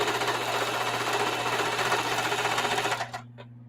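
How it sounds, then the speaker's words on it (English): Sewing machine stitching forward and back across a rag quilt, a fast loud mechanical chatter that runs steadily for about three seconds, then stops with a few final clicks and a low hum. "I'm just going to do a few stitches forward, a few back, and tear this thing up."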